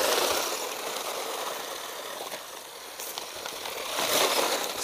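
A PXtoys Piranha 9200 1:12 scale 4WD RC car with a 540 brushed motor drives over rough ground, a steady broadband whirring and crunching that swells near the start and again toward the end, with no talk.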